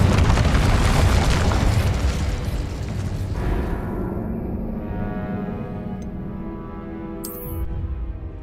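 A loud, full fiery blast from an Incendio spell in Hogwarts Legacy roars at the start and slowly decays into a long rumbling tail, ending with a brief bright crackle.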